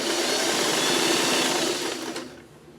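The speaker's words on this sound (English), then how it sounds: "But we'll sew them together." A sewing machine runs at steady speed, stitching fabric pieces together with a dense, even whirring buzz up close, then winds down and stops near the end.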